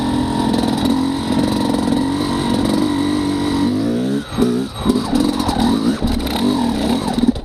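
A 2-stroke motorcycle engine fitted with a SmartCarb SC2 carburetor, running on a 50:1 premix of ethanol-free 92-octane gasoline, holds a buzzy, steady drone, then revs up and down in quick bursts partway through.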